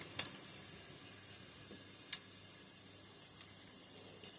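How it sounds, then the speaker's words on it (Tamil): Mustard, fennel, cumin and fenugreek seeds fry in hot oil in a pan, a faint steady hiss broken by a few sharp isolated pops, with no talking. "நான் ஒரு பாத்திரத்தில் எண்ணெய் ஊற்றிட்டு அதில் கடுகு, சோம்பு, சீரகம், ஒரு 4 வெந்தயம் பாருங்க பொரியட்டும்"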